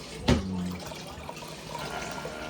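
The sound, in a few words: water being poured into a smoker pan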